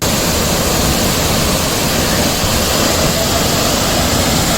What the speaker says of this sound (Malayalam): സെന്റിനൽ റോക്ക് വെള്ളച്ചാട്ടം എന്നുകൂടി പേരുള്ള ഈ ത്രിതല വെള്ളച്ചാട്ടം